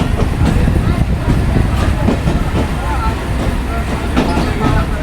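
Mahananda commuter train running slowly on the Khulna to Jessore line, a steady close rumble of wheels on rails with faint clickety-clack over a dense background, with a voice speaking over it.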